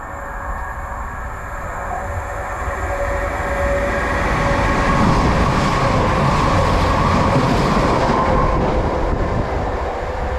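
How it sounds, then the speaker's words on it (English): A train passes through a station on the line from Wolverhampton toward Shrewsbury, a loud steady rumble of wheels and carriages that swells and stays heavy, with faint rail clatter and no voices. "passing through, we've got a service to Shrewsbury"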